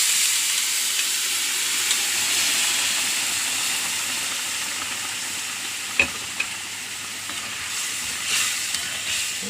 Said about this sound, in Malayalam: വേവിച്ച ചെമ്മീൻ ഇടുന്നു.